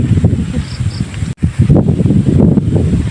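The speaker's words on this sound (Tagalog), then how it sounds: "Medyo malakas yung hangin." Strong, gusty wind buffets the microphone outdoors in the rain, a steady low roar with one brief drop before it surges back, and no voices.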